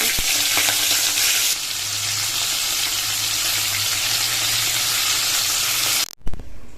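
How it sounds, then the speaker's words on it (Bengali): Prawns fry in hot oil with a loud, dense, continuous sizzle that softens slightly after the first moment, then cuts off abruptly followed by a short clatter. "তেল গরম হয়ে গেছে, এখন হচ্ছে চিংড়ি মাছগুলো ভাজছি"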